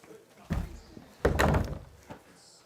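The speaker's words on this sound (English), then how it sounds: "Let me shut the door." A door shut indoors during a televised Georgia Bulldogs versus Texas Longhorns college football game: a couple of solid thuds, the loudest a heavy slam around the middle, with faint background noise and a small knock afterward.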